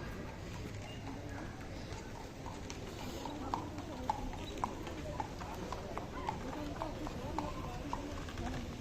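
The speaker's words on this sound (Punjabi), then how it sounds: "ਤੇ ਹੁਣ ਤੁਹਾਨੂੰ ਦਿਖਾਉਂਦੇ ਆ ਟਾਂਗੇ ਘੋੜੇ ਇੱਥੇ ਦੇ" A horse-drawn carriage's hooves clip-clop in a steady, even rhythm on a hard street, fairly faint under a constant hum of traffic and crowd noise, with voices talking in the background.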